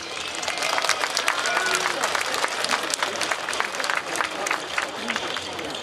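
Crowd at a 2012 May Day rally applauds a political speech with dense, steady clapping that continues throughout, loud and close, with the crowd's murmur mixed in.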